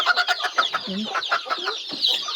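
Pet chickens cluck close by in a quick, busy run of short calls and chatter, several birds overlapping over a couple of seconds.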